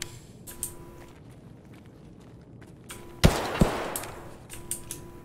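Glock-18 pistol on full-auto in a first-person shooter game, heard as two sharp close bursts midway through, with faint footsteps and clicks in an otherwise quiet background.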